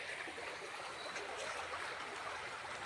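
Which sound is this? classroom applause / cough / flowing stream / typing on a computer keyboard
flowing stream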